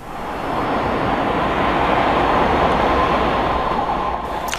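A train pulling away from Darlington and gaining speed, a loud, steady broadband rumble of rail wheels and engine that swells in over the first second and holds close by throughout, with no talking.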